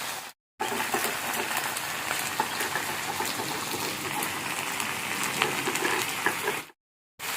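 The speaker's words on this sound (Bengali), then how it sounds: "সবকটা সবজি দিয়ে ভাজা হয়ে যাচ্ছে" Mixed winter vegetables fry in a pan for a dried fish curry with pui greens, a steady dense sizzle and crackle that continues evenly at close range for several seconds.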